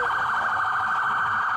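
An alarm blares loud and unbroken from a vehicle during a police bodycam encounter, a steady electronic wail holding one tone throughout, alone with no voices.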